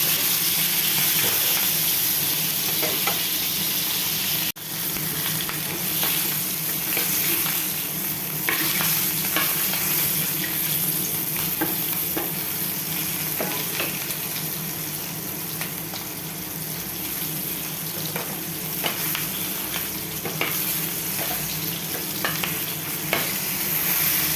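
Vegetables with ginger-garlic paste pan-fry in a steady, close sizzle, with frequent scraping stirs and clinks breaking through the hiss, and no voices.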